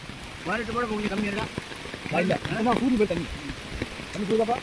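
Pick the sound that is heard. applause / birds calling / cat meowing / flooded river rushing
flooded river rushing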